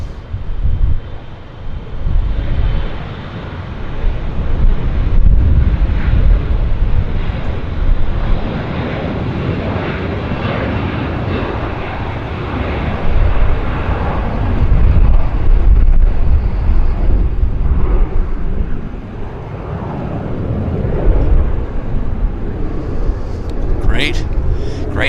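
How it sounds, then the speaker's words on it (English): A Delta SkyWest Embraer jet rolls down the runway at Vancouver Airport, its engine rumble swelling and easing amid wind buffeting, with a commentator talking over it. "now I can get the Delta SkyWest Embraer on the roll for us"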